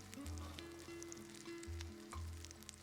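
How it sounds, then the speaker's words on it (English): Onions sizzle in a pot of melting butter for a pumpkin soup, a soft, even frying hiss that runs throughout at low volume with no talking. "now I'm just going to put the onions in as well as the butter starts to melt"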